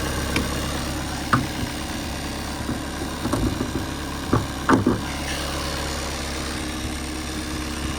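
A 2019 Skoda Octavia 1.6 diesel with automatic transmission idles steadily after starting, a low even rumble with a few faint clicks and knocks over it.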